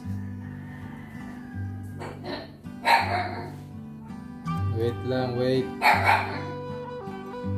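A dog barks a few sharp times nearby while a person speaks briefly over steady background music.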